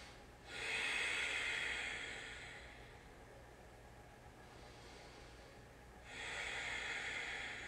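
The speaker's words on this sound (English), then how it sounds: "Take 3 breaths here." Two slow, deep breaths during a seated floor yoga sequence, each a soft airy inhale-exhale swell close to the listener, separated by a quieter pause, with no talking.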